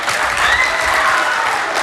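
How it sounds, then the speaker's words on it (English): Audience clapping fills a rehearsal room at a Pasifika Fusion performance event: steady, dense applause from a group, loud and continuous throughout without a break. "I need the clapping to be more alive."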